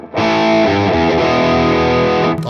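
An electric guitar plays through a BOSS IR-2 on its lead channel with the reverb turned right up, giving a loud, sustained, distorted chord that rings for about two seconds before cutting off.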